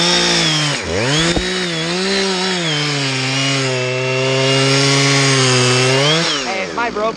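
A chainsaw runs loud and close for the whole stretch, cutting a dying, leaning pine, its engine pitch dipping and rising as it works into the wood.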